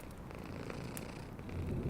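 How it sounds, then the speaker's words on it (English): A small pet cat purrs softly and continuously, a low steady rumble close by, with faint rain-like background noise and no talking. "I never thought we'd be able to find a sort of cat which could be a pet."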